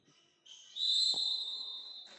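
A referee's whistle blown for a shot in a high school hockey shootout at a fall tournament in Minnesota, one long steady shrill blast with a sharp click partway through, loud and alone in an otherwise quiet rink.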